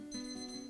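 A kitchen cooker timer rings with a steady, high electronic tone, a continuous beeping ring heard quietly from a short distance with no voices over it.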